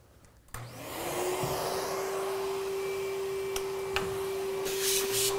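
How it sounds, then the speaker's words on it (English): A vacuum cleaner starts up and runs steadily while cleaning a car's carpeted interior during detailing, a loud continuous whine with a steady tone and occasional bumps of the nozzle against surfaces, with no talking. "the first process, and really in all interior processes, is going to be to vacuum the car."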